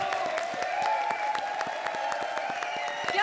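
Steady applause from a studio audience at a comedy show, dense even clapping sustained throughout, with a faint musical tone beneath.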